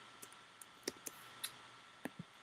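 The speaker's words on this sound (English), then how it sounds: "I'm already typing McKenna's name in" Computer keyboard keys tapped in a few sparse, quiet clicks while a name is typed during an NHL draft broadcast, with no talking.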